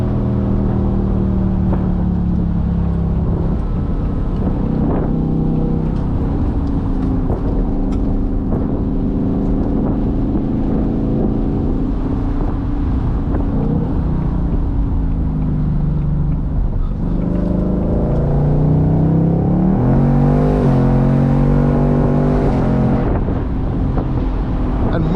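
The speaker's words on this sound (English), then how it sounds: "In sport mode, you can hear it downshifts automatically for you when it detects some sportier driving." 2024 Ford Mustang GT convertible with a Coyote V8 and 10-speed automatic in sport mode: a loud, continuous engine drone under wind rush, with engine pitch rising and dropping as the transmission shifts down automatically toward the end.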